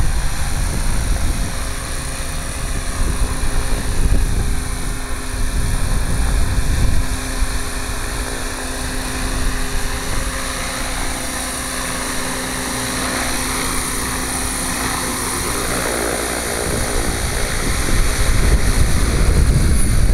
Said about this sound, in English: It's so stable, it's just relaxing to fly. Awesome helicopter.